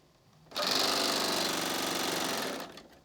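A Bernina serger sewing machine runs at speed, a loud, close, continuous whirring hum that starts abruptly and stops after about two seconds.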